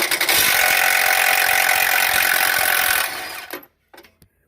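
A loud, continuous whirring burst from an impact wrench with a 19mm socket spinning off frame nuts while installing a metal bumper on a 2022 Jeep Wrangler, running steadily for about three seconds before cutting off, followed by a few brief clicks.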